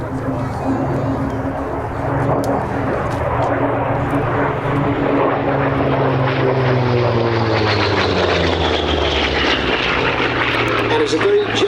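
A Grumman F8F Bearcat propeller fighter flies a display at Sywell Airshow, its piston engine droning steadily, then rising in pitch as it passes, under continuous commentary from an announcer.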